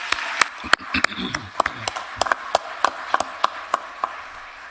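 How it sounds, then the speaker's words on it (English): Scattered claps at a county commission meeting, sharp irregular hand claps from a small group rather than a full roar, fairly close, with faint talk in the room. "Let's give them a round of applause."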